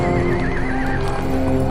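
Cavalry horses whinny in a long, wavering neigh over a dense background of hooves and movement, loud and close, with no speech.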